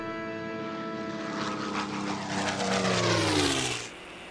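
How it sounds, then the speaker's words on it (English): A P-51D Mustang fighter with a Packard Merlin engine passes by, its steady propeller drone swelling louder and sweeping down in pitch as it flies over, then fading, heard alone without voices. "It's a P-51D Mustang, powered by a Packard Merlin engine"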